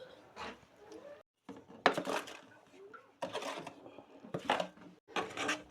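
Maize flour and other ingredients are stirred together in a pan, with irregular bursts of scraping and clinking from a utensil against the metal, close and moderately loud, separated by brief pauses.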